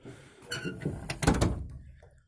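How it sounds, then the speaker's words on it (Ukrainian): A door on a newly fitted handle pushed shut with a finger, giving a few close clattering knocks and a firm thunk before fading out, fairly quiet with no talk. "Пальчиком раз, і двері закриті вже."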